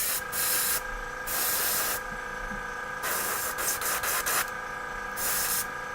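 Airbrush spraying primer onto a miniature model in several bursts of steady hiss, each lasting about a second, with short pauses and a few brief puffs between them.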